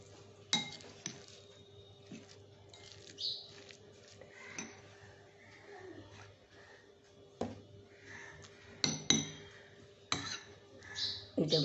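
Spoon stirring ingredients in a bowl for a sugar-free breakfast dish: faint, irregular clinks and scrapes of metal against the bowl, with a voice speaking in between.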